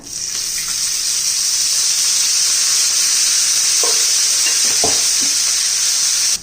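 Oil sizzles loudly on an iron griddle as cluster beans are stirred and fried, giving a steady bright hiss with a few scraping knocks from the spatula.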